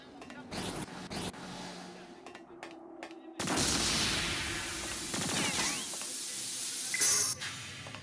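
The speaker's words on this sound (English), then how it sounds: "There's just so many explosions, and the sound effects, man, they hit just right." Explosions and gunfire from the 2003 action video game Blowout, with sharp bursts early on, then a sustained loud roaring blast with hiss and crackle, followed by a final sharp bang near the end.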